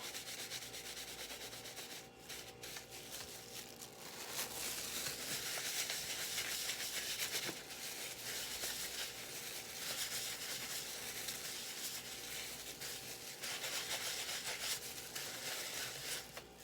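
Cloth rubbing wood stain onto wooden yard dice blocks, a steady soft scuffing hiss that runs continuously and quietly, close by with no talking.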